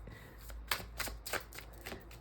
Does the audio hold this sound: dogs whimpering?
no